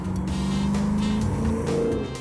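Car with a modified intake, exhaust and engine chip accelerating while cruising on the Gold Coast, a loud close engine drone rising steadily in pitch, heard from inside with no talking.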